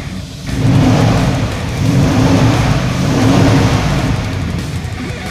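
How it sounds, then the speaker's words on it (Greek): A car engine is revved in three loud, close swells, each rising and easing off before the next, with a steady rumble between them. "Πάμε να το μαρσάρουμε λίγο."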